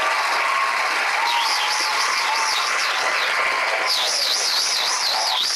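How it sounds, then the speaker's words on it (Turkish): Loud, sustained applause from a large television talk-show studio audience welcoming a guest, with shrill whistles rising repeatedly over the steady roar of clapping. "bu haftaki konuğumuz alkışlarınızla geliyor"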